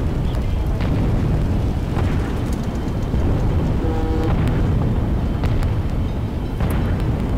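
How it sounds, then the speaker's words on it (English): A catbird cannon strike in the zombie game Atom Zombie Smasher erupts into a loud, sustained blast that roars for several seconds, with crackling debris bursts layered over a dense rumbling wash. "Now that's some nice explosion."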